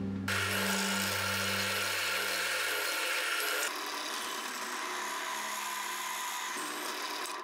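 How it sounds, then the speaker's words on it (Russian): A drill bores a 13 mm hole into a wooden kitchen cutting board, a loud, steady motor whine with a low droning tone early on, then a continuous grinding bite for several seconds before stopping. "И сейчас предстоит просверлить отверстие 13 мм"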